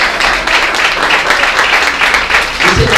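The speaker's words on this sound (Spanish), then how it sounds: "¿Cuántos le pueden dar un aplauso a Él?" Church congregation clapping in praise during a sermon, a loud, brief burst of dense applause that holds steady and is cut by a low thump near the end.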